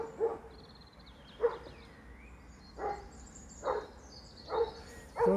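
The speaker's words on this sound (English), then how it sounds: "That dog barks like fucked in there." A dog barks repeatedly in a bluebell wood near Skeoch Roundabout, Stirling, six single barks spaced about a second apart, fairly distant and echoing over quiet outdoor ambience.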